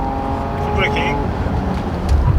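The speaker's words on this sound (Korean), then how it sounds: "풀브레이킹." A Porsche Cayenne GTS SUV brakes hard on a race track, with steady engine and road noise and a brief tire squeal, while someone speaks over it.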